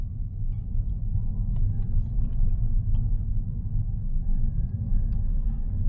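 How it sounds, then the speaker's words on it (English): A car rolls down the road with a low, steady interior rumble of tyres and engine, a constant drone with faint small clicks and taps over it. "let's just start moving the car down the road."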